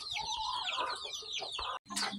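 Several young hens near laying age cluck and chatter together nearby in a pen, a busy overlapping squawking with a brief pause near the end.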